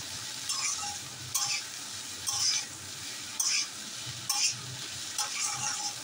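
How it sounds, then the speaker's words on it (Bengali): Vegetables sauté in a pan over a high flame, a steady sizzle broken by several scraping, clattering stirs of a utensil against the pan, fairly close and with no talk. "সমস্তটাকে হাই ফ্লেমে নেড়ে চেড়ে ভালো করে সটে করে নেব"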